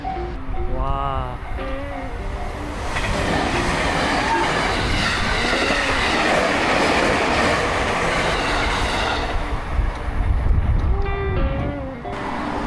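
A train rolls past on railway tracks in Fukuoka, Japan, a loud sustained rumble and clatter building over several seconds as it passes close by, with people talking briefly before it arrives.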